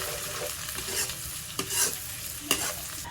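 Garlic toasts in a pan with a soft continuous sizzle, punctuated by a few sharp stirring scrapes close by, and nobody speaking.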